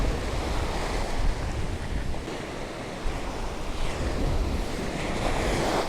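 Stormy wind and crashing sea waves roar at a fishing spot on the Occidental Mindoro coast during Typhoon Crising, a loud, unbroken rush with surging gusts buffeting the microphone and no voices.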